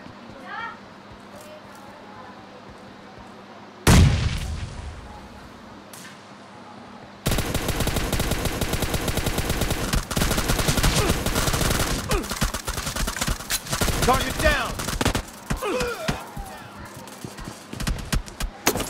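Machine gun fire in a mobile shooter game, a sharp blast followed by long dense rattling bursts that run to the end, with a voice talking over parts of it.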